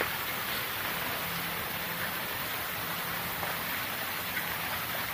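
Steady rain falls outdoors at a water pipelaying site in Manila, a dense, even hiss of drops on surfaces that holds constant throughout with no breaks and no talk.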